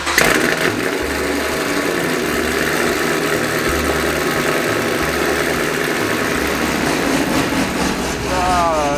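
A loud vehicle engine runs after a cold start, droning steadily and roughly at idle from close by, with people talking over it.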